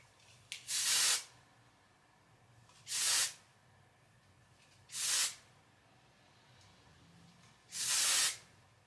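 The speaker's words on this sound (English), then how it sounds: "This is the Not Your Mother's Beach Babe Texturizing Dry Shampoo." Four short, evenly spaced hissing bursts from a can of Not Your Mother's Beach Babe texturizing dry shampoo being sprayed, each lasting under a second, with near-silence between them.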